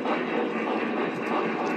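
Model trains running on an AC track layout, a steady broadband rumble and whir with no distinct clicks, continuous and fairly close throughout.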